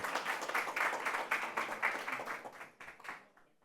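Audience applause for hackathon projects at a conference, dense steady clapping that begins at once and slowly thins out toward the end, with no talking over it.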